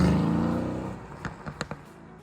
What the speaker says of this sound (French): un gros V8 qui fait une sonorité qui, pour moi, je pense, est une des plus belles sonorités sur le marché de l'automobile aujourd'hui